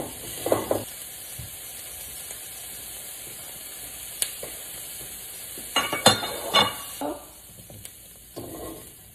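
Butter sizzling in a hot pan before cooking steak: a quiet, steady hiss with a few sharp clinks and scrapes of utensils against the pan, close by and without talking.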